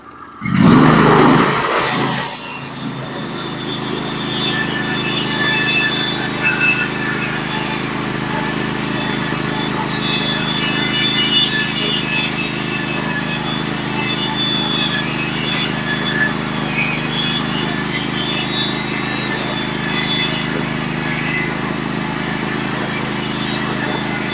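A Norwood HD36v2 sawmill cuts a flitch off a log while milling fence boards, a loud engine drone with a sharp burst at the start settling into a long steady whine of blade through wood.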